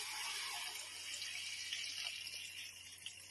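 Water poured into a pan for upma, a steady hissing, rushing stream with no pauses, fairly quiet and close, no talk.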